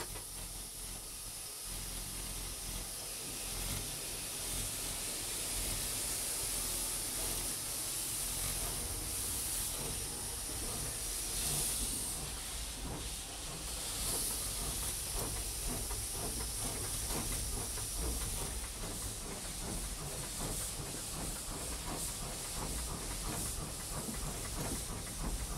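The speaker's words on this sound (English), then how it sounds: "Steam coming out" Steady, loud hiss of steam escaping from a British steam locomotive standing at a platform, a continuous broadband rush lasting throughout with faint mechanical clanks beneath and no talk.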